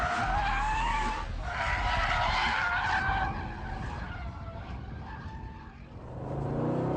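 A Jaguar XFR V8 on a race track, its engine roaring continuously while the tyres squeal and skid through corners, loud and close throughout with the pitch rising and falling.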